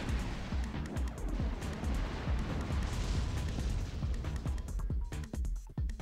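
Large missiles exploding in the Armored Core: Last Raven video game, a dense run of booming blasts and sharp bursts piling over one another, fairly loud and continuous.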